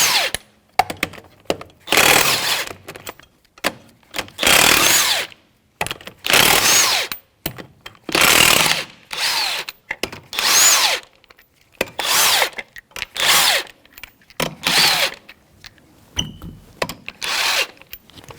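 A power tool fitted with a 19mm socket spins off the lug nuts on a 2007–2017 Jeep Patriot wheel, firing in about eight loud, separate whirring bursts with short quiet gaps between them.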